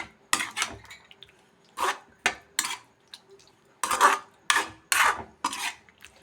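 A spoon scrapes and knocks around a pot of potato and onion curry with yogurt and a little sugar, in irregular close strokes separated by short pauses, with no talking.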